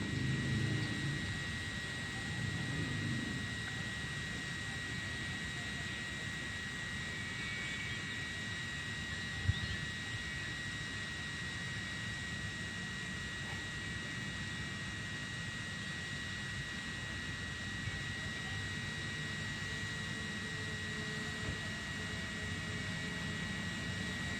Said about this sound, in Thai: อ่าตอนนี้มองเห็นตัวโดรนแล้วนะครับ